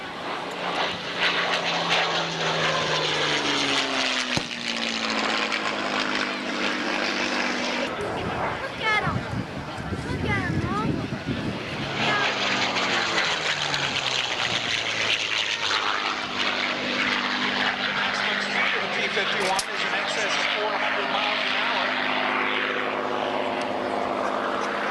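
Propeller fighter aircraft taxiing at the 1995 Valiant Air Command air show, a loud, close engine drone with shifting pitch, swelling and dipping through the clip, with a person talking over it.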